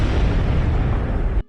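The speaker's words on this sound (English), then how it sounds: "Norm becomes heroic, destroying the spider experiments, and everyone fled from the explosion," An explosion from a Spider-Man film scene in which spider experiments are destroyed: a dense, loud, sustained blast roar filling the whole stretch, ending abruptly.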